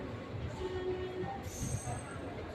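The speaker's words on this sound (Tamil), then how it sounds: "அதனால் ட்ரெயின் 2 minutes டிலேயாக இப்போ கிளம்பிகிட்ருக்கு." A passenger train pulls away from Thiruvarur Junction, heard from on board as a continuous rumbling rolling noise with a faint thin squeal and a brief higher metallic tone midway, under background voices.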